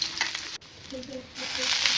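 Green chillies fry in hot oil for a quick methi bhaji, giving a steady crackling sizzle that swells louder toward the end, with faint tonal sounds in the background.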